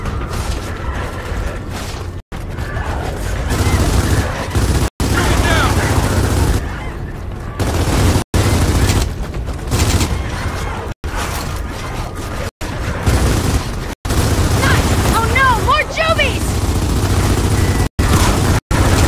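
Gears of War 4 battle with loud sustained gunfire bursts and booming explosions, near and dense, with short cut gaps, under shouted voices.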